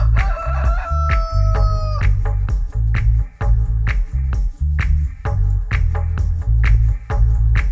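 A rooster crows loudly once at close range, followed by a run of repeated rhythmic thumps and clatter.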